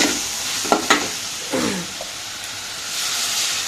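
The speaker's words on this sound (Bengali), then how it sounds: "এবার ঝোলটা একটুখানি ফুটতে দেবো" Curry of potato, boiled egg, tomato and ginger simmering in a pan with a steady sizzling hiss, broken by a few close stirring scrapes and clinks.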